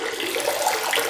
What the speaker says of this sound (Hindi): लगातार पानी की धारा डालनी है।